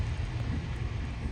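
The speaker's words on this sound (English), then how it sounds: "it's like pouring rain now" Heavy downpour from outside a car, a dense, steady broadband wash with strong low rumble and wind buffeting, loud and continuous throughout with no talk.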